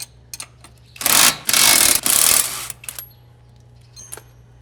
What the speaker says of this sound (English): we're just going to take this nylon pillow block off and show you how easy it is to